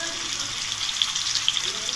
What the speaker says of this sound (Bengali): হলুদ আর লবণটা দিয়ে ভালো করে আলুটাকে লাল লাল করে ভাজতে হবে।